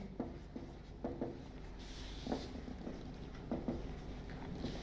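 Marker or chalk strokes scratching across a board during a chemistry lesson, a series of short rubbing bursts with small pauses between them, steady and close, with no voices.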